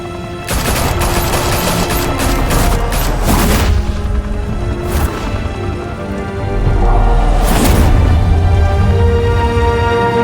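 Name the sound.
gunfire in video game Batman: The Telltale Series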